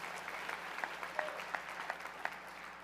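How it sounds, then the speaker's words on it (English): Audience applause during a political speech, heard faint and distant as scattered claps with a few sharper individual hand smacks standing out at an irregular pace. "yeah, you should applaud"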